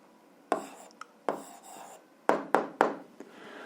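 Pen or chalk writing out an algebra answer in separated strokes, about seven short scratchy bursts, close and fairly quiet, with no talk.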